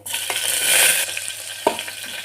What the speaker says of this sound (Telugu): ఆయిల్ వేడెక్కాక మెంతులు, జీలకర్ర ఇలా వేయాలి.